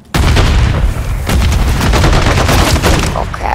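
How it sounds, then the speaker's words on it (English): A grenade blast and heavy gunfire erupt in Call of Duty: Modern Warfare III, a sudden loud boom opening into sustained rapid automatic shots and crackling fire, close and intense throughout. "Grenade out!"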